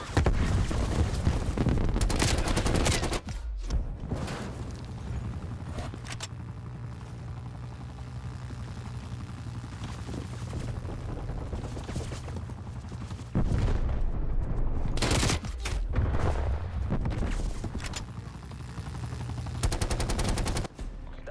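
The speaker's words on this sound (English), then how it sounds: "Hostile chopper gunner operating." A hostile chopper gunner's machine gun fire in a video game, loud dense bursts of gunfire with heavy rumbling, broken by short gaps and returning in continuous volleys.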